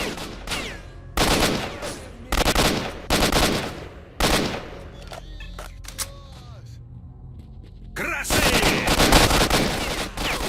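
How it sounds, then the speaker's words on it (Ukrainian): Rapid bursts of gunfire from the video game S.T.A.L.K.E.R.: Shadow of Chernobyl crackle in loud clusters, separated by quieter gaps, with a long sustained burst near the end. "Хто стріляє?"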